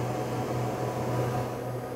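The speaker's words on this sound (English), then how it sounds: "Oh, it turns. That is a vacuum operated motor." A vacuum-operated motor on an aircraft at an air museum, running on about 3 inches of vacuum, gives a steady close hum with a constant low drone and airy hiss throughout, no talk.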